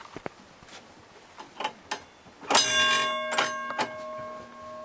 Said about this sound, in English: That's the hoist bell for the winds